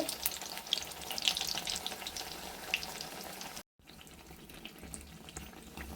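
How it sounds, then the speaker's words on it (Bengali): Battered eggplant fritters fry in hot oil with a steady, fine sizzle. The sizzle cuts out briefly partway through, then continues evenly. "ভেজে নিচ্ছি আমি"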